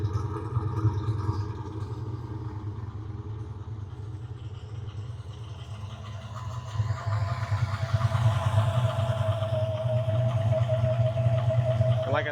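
A supercharged Chrysler 300 SRT with a Whipple supercharger, cam and JBA exhaust idles with a deep, steady, lumpy rumble close by, its tone thickening partway through as a faint whine rises over it.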